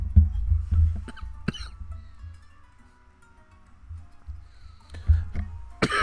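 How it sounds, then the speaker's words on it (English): Several short coughs from a man, loud and close, clustered near the start and again toward the end, with a quiet stretch between them. "I have a slight cough going on."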